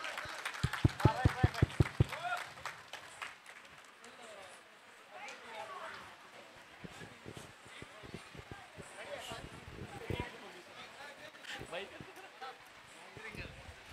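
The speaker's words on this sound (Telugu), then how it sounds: "ఇప్పుడు తన కోసం మీరు క్లాప్స్ కొట్టాల్సిందే." An audience at a silver jubilee dance celebration claps for Ramesh: a brief burst of loud, sharp claps opens, then sparse scattered claps continue under a speaking voice.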